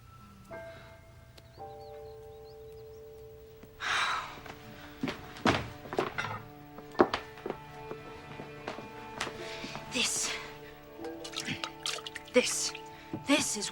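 A hand water pump clunks with heavy thunks as water splashes and drips in uneven bursts, set against sustained musical tones and occasional voices.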